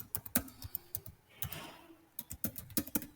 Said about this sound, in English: So in my case I'm typing my password